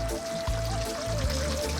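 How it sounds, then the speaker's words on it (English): Water pours in a steady stream into a pot of Ethiopian lamb and potato stew, close and fairly quiet, with a faint ringing tone underneath. "I'm going to add a little bit more water"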